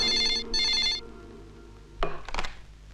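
A telephone bell rings in two short bursts, then stops, followed by a clatter as the handset is lifted.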